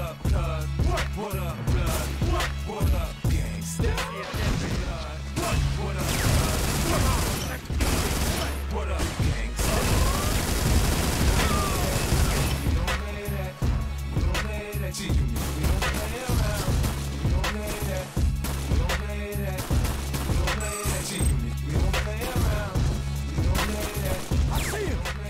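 Gunfire in the video game 50 Cent: Bulletproof: dense bursts of shots and loud impacts repeat throughout over a pulsing soundtrack, with occasional crashes and a voice speaking briefly.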